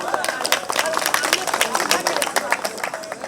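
Crowd at a Jantar Mantar rally in Delhi claps loudly and unevenly, a dense burst of applause mixed with crowd babble.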